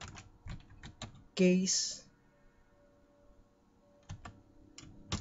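Keys clatter on a computer keyboard in quick bursts of clicks, with pauses between bursts and a short spoken word partway through.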